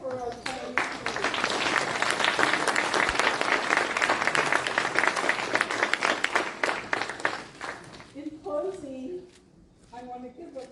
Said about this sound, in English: So please give a large round of applause for our planning committee.